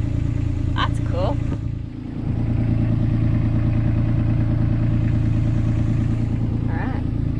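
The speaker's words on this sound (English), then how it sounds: "Neutral and give it a bit of a rev." A vehicle engine idles and revs in neutral, a loud continuous low rumble with a brief dip and rise in pitch, while someone talks briefly over it.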